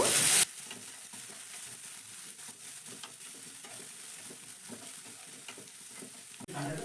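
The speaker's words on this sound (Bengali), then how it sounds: "আদা আর কাঁচা লঙ্কাটাকে ভালো করে আমি একটু ভেজে নেব" Oil sizzles and crackles steadily as ginger and green chili fry in a pan, with occasional scraping stirs; a brief louder burst at the start and end.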